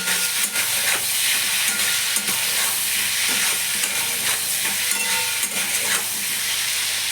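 Potatoes and shrimp fry hard in a pan for a Bengali taro and shrimp dish. A loud, steady sizzle and hiss runs throughout, with repeated close stirring scrapes and no voices.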